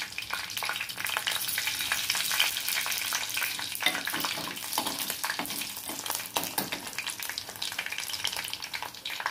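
Onions and green chilies frying in a pan for a duck egg and dried prawn curry, a loud continuous sizzle with stirring scrapes throughout, close up and with no talk.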